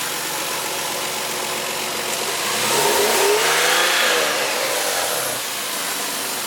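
A rebuilt non-turbo 2JZ-GE engine in a Lexus IS300 with headers idles, then revs up once through the middle and falls back to idle, loud and close with no talking.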